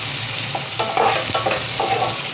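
Methi (fenugreek leaf) vegetable is stir-fried in a pan with a continuous sizzle, while a spoon stirs and scrapes in quick, uneven strokes close by.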